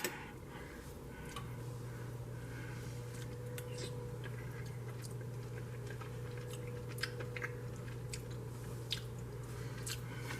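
Quiet close chewing of a broccoli, cheese, rice and turkey casserole, with soft irregular mouth clicks and squishes over a steady low background hum.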